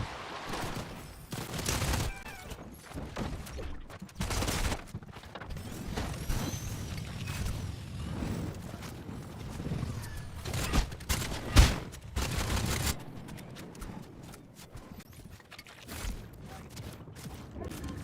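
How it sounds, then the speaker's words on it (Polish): Gunfire in Fortnite, during a challenge of dancing on a launch pad, comes as repeated bursts of shots amid clicking, ratcheting game mechanisms, irregular and fairly loud throughout. "ktoś cały czas we mnie strzela"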